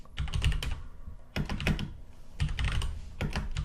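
Close, crisp keystrokes on a computer keyboard while entering figures into an Excel spreadsheet, clattering in three quick bursts separated by short pauses, with no one speaking.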